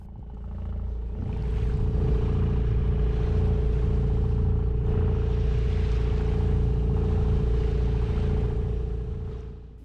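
A boat engine hums steadily at a low, constant pitch, with water noise around it, swelling in and fading out.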